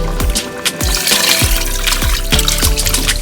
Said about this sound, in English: So I'm going to add the veggies along with the liquid that was in the bowl.